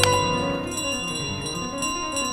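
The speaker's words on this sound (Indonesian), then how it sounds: "Apa bagusnya lonceng ini?" A bell rings out in Untitled Goose Game, its bright metallic strike opening the clip and a sustained ringing tone hanging steadily underneath game ambience throughout.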